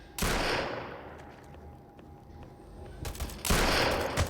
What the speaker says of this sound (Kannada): ಶಾರ್ಟ್ ಗನ್ ಕೊಟ್ಟರು ಹೆಡ್ ಶಾಟ್